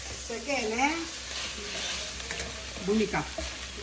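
Ginger garlic paste frying in a pan in a home kitchen, a steady close sizzle with stirring scrapes, while a voice talks over it in places.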